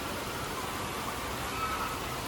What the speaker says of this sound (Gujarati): પહેલો વરસાદમાં તો ગરમી લાગે.